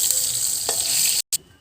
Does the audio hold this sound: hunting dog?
no